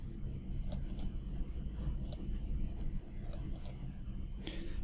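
Mouse clicks from modeling work in Blender, a handful of sharp, isolated ticks in short pairs and singles over a steady low hum, close and fairly distinct.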